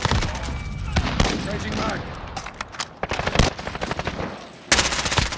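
Rapid automatic gunfire from Call of Duty: Modern Warfare, loud bursts of machine gun shots in quick succession with short gaps between volleys, heavy and close, with a voice speaking faintly underneath.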